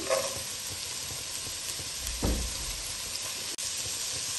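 Carrots and capsicum sizzle steadily in a pan for egg fried rice, with a constant bright frying hiss and a brief louder burst of stirring near the middle.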